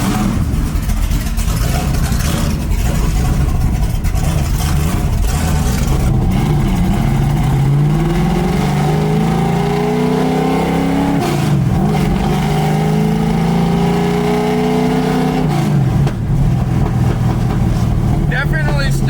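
A 1965 Ford Mustang with boom tubes accelerates hard, its loud engine revving up through repeated rising sweeps close to the listener, with a voice talking underneath.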